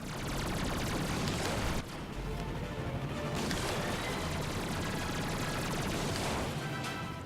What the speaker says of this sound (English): Do I shoot the guns? Oh no, I'll just shoot it.